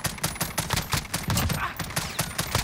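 Rapid bursts of automatic gunfire from a gun in Call of Duty Modern Warfare, rhythmic repeated shots close and loud, pulsing steadily through the whole stretch.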